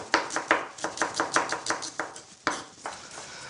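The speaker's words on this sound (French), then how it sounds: "je vais couper dans un premier sens, ensuite j'escalope et je réalise des petits dés" A knife taps rhythmically on a cutting board, dicing shallots, about a dozen quick chops in a steady beat, then a few slower, spaced cuts.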